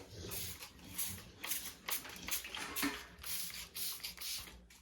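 A series of short, hissing spray bursts repeat every half second or so, fairly close, with a faint low background rumble and no talking.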